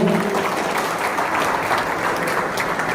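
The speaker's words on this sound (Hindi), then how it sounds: "एक बार पुनः सभी बच्चों के लिए बहुत बहुत तालियां।" An audience at a scholarship distribution ceremony in Tinsukia claps for the children in dense, sustained applause that stays loud and even throughout.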